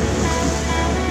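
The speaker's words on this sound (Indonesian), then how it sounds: "Gelombang ombak itu sudah semakin tenang, meskipun memang tetap pasang, tetapi sudah semakin tenang." Ocean waves at high tide on a littered shore after tidal flooding and strong wind, a loud continuous roar of surf with wind noise, no voices.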